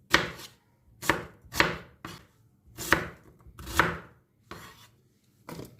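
A knife chops chicken breast on a cutting board, about eight sharp, irregular strikes with short pauses between, close and distinct, no talking.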